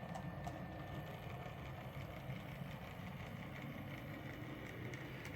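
An OO gauge model railway locomotive running on a loft layout, a faint steady low motor hum and rumble throughout, continuous and even with no breaks.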